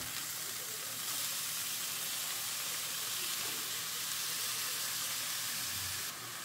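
Capsicum, carrot and cabbage stir-frying over a high flame give a steady, loud sizzle that runs nearly unbroken throughout, with faint stirring sounds beneath and no voice.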